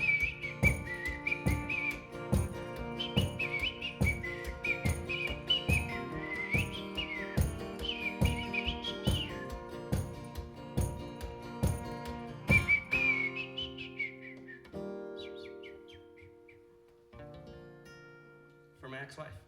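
A person whistles a wavering melody at a live acoustic performance, over steady rhythmic strumming; the whistling drops out near the end and sparse plucked notes ring on.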